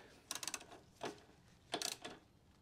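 Bolt being tightened during a Wilbers Nivomat shock install on a Harley-Davidson Road King Special, heard as three short bursts of ratchet-like clicking and mechanical rattling, fairly faint and with no voices.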